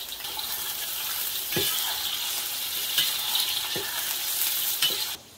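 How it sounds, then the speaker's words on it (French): Onions fry in a pan with a steady close sizzle, broken by a few dull knocks of a utensil stirring, before the sound cuts off abruptly. "On met les oignons."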